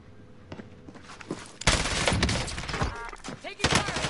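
Dense bursts of automatic gunfire from a PS4 online shooter video game, sporadic at first then a sustained loud barrage with overlapping shots and explosions-like impacts.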